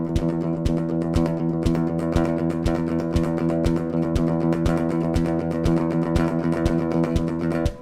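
A guitar chord is picked in steady sixteenth notes, a fast, even stream of attacks over a sustained tone that runs for several seconds and cuts off abruptly at the end.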